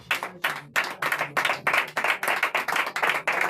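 A church congregation claps in a steady rhythmic beat during prayer and worship, sharp and fairly close, about three claps per second.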